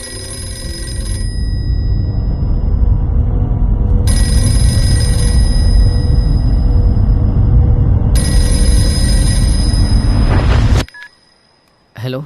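A telephone rings loudly in repeating bursts over a heavy low rumble, ringing through three cycles before cutting off abruptly.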